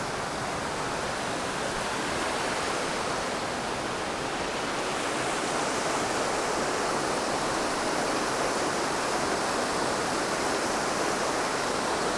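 Pine Creek, a summer mountain stream in Montana, rushes steadily over rocks in a dense, even wash of water noise that stays constant and close throughout, with no voices.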